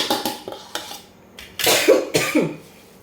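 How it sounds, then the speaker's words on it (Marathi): Hot potato vada mixture stirred with a metal spatula, a few scattered clinks and scrapes against the vessel, close but brief, with a short rustling burst and no speech. "मी जरा कलथणी थोडंसं हलवून घेते"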